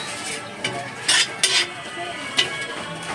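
A mung bean dish being stirred in a pot on the stove, with soft simmering underneath and several sharp scrapes and clinks of a utensil against the pot.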